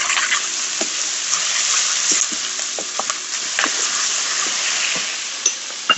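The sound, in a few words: sweet peppers sizzling in pan with celery, garlic, onion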